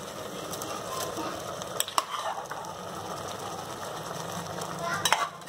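Cooked rice goes into a pot of bisi bele bath and a ladle stirs it in, making soft scraping, clinking strokes over a low simmering sizzle.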